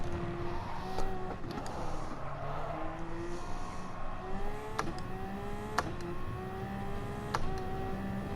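A car engine drones through a lap, its pitch climbing and dropping repeatedly as gears change, with several sharp clicks and clunks of the shifts heard from inside.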